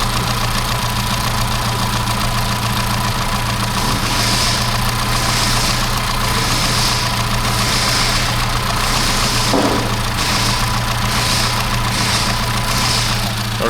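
A 998cc Mini engine idling as it warms up, a loud, steady, close mechanical hum with an even low throb and a faint ticking rattle running throughout, no speech.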